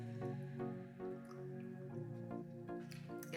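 Gravy poured over almond chicken as a cheat-day comfort meal, giving close, wet dripping and squishing with soft irregular splats that continue steadily throughout.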